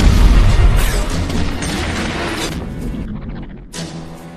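A loud explosion from the film Getaway (2013) roars with deep rumbling and crackling debris that slowly fades, then a brief second burst of noise.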